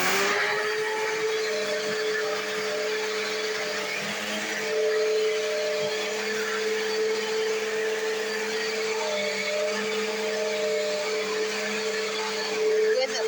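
Eureka Whirlwind Lightspeed vacuum cleaner running steadily up close, a loud constant motor whine with airy rushing noise that swells slightly at times, with brief talk over it.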